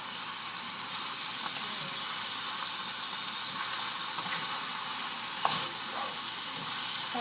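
Sautéed chicken with seasoning stirred in a frying pan, a steady close sizzle with soft scraping and stirring touches running throughout.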